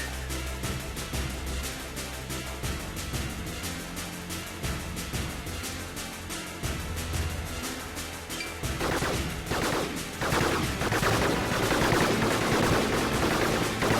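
Robots fire weapons in the Gladiabots strategy game, a steady stream of rapid shots for the whole stretch that grows denser and louder toward the end, with no voices over it.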